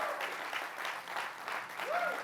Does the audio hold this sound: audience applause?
yes